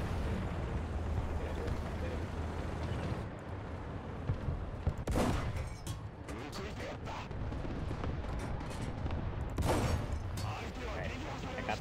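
Tank cannon fire in War Thunder ground battle: two heavy booming shots several seconds apart over a constant loud engine rumble, with someone talking throughout.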